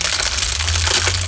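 Close, dense crinkling and crackling of crumpled foil and plastic wrapper, a continuous bright rustle with no voices.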